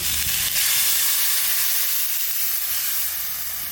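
Loud, steady sizzling hiss of a pan of frying potatoes and pumpkin stems as water hits it, with steam bursting up near at hand, then settling slightly quieter.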